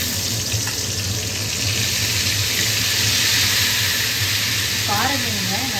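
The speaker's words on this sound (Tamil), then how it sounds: "இப்போ அதை நம்ம எண்ணெயில் போட்டு பொரிக்க போகிறோம்." Marinated rock fish fries in hot oil with a steady, dense sizzle throughout, a continuous close hiss filling the kitchen while a voice speaks briefly near the end.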